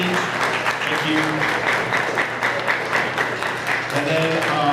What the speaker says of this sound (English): So round of applause for yourselves for supporting these students who are on stage